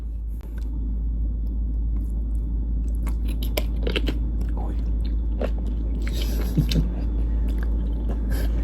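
Someone bites and chews crunchy bullet jellyfish at a Chiang Mai walking street market, with close, crisp crunches over a steady low traffic rumble and brief voices nearby.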